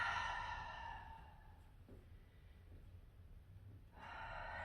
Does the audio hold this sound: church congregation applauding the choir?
no